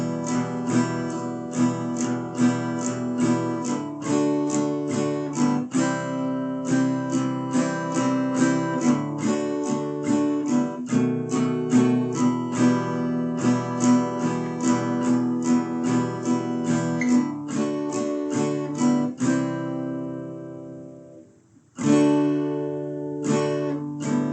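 Steady strummed guitar chords ring out in a rhythmic progression, bright and close, with a brief pause near the end before the strumming resumes.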